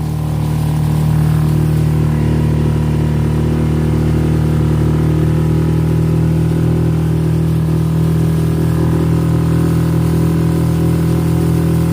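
A 6 horsepower outboard engine pushes a dinghy at half throttle, giving a loud, steady, even drone that holds one pitch throughout, with no talk over it.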